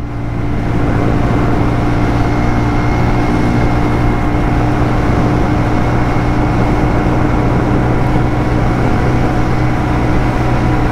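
Shineray Worker 125 motorcycle ridden at night, a steady droning engine hum with constant wind rush, loud and unbroken throughout with no talk.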